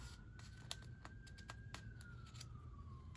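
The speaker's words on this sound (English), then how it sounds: "Yep, sirens," An emergency vehicle siren wails faintly in the distance outdoors, a thin steady tone that slowly rises then falls, beneath nearby soft clicks and rustling.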